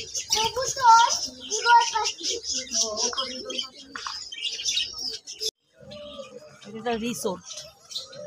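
Pigeons at an eco resort in Keraniganj, chirping and cooing in short bursts close by under steady voices and outdoor chatter.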